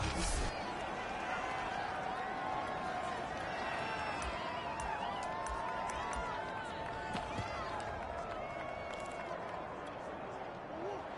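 A stadium crowd in a PS4 American football game, the Panthers on the field: a steady, distant roar of spectators with a constant murmuring wash and scattered whistles, running under an announcer's commentary.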